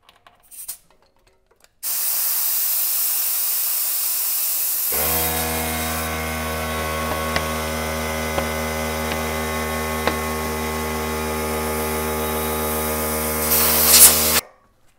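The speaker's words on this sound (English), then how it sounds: "let's go ahead and air this up." Air hisses loudly and steadily as a bicycle tire is inflated through a Presta to Schrader adapter during a CushCore install, with a constant humming compressor tone that rises into a brief louder burst near the end.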